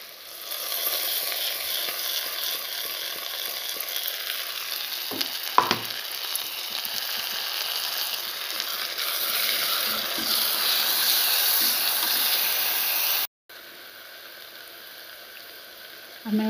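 Ginger garlic paste frying in a pan for a mutton jhol gives a steady, close sizzle throughout, with a brief clatter from stirring midway and a short drop-out near the end.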